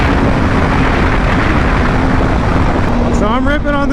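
A low-mileage Honda CBR1000RR motorcycle engine hums steadily below 12,000 rpm under loud wind rush, its pitch climbing and wavering near the end.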